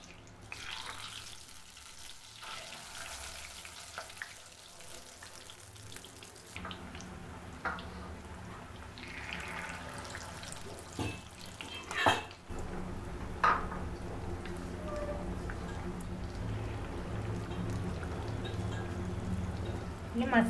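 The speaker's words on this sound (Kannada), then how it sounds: "ಓಕೆ, ಇದರಲ್ಲಿ ಫ್ರೈ ಮಾಡ್ತಾ ಇದ್ದೀನಿ" Mackerel coated in green masala fries in hot oil with curry leaves, giving a steady sizzling hiss that continues throughout, with a few clinks of utensils and occasional voice in the background.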